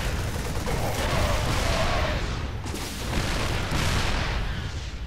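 A StarCraft II tank being destroyed amid a steady din of battle, with dense booming, crackling fusillades and explosions sustained at a loud level throughout.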